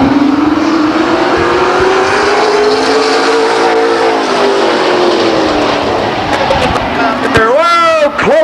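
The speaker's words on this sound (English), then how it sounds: "Close racing indeed going into turn one." Race cars at Stockton 99 Speedway roar through turn one in close pack racing, a loud sustained engine drone rising and falling, with a sharp passing whine near the end and an announcer talking over it.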